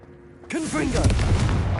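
A loud Confringo fire-blast spell erupts in Hogwarts Legacy, a sudden booming burst that follows a shouted voice and rumbles on to the end.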